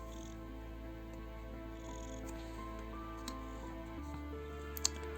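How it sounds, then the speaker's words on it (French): A 19-year-old cat purrs steadily nearby, a low continuous rumble with faint soft ticks on top, and no talking. "si vous entendez ronronner, je suis désolée"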